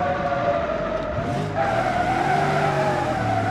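Bruckell Bastion drift car skidding on mountain roads in a video game, a steady engine drone with a long tire squeal sliding in pitch throughout, loud and close.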